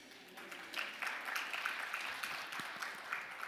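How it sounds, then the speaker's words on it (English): An audience at a talk on special-needs family benefits claps, a soft, steady patter of many hands that builds after a quiet start and carries on evenly without voices. "Thanks for the clap."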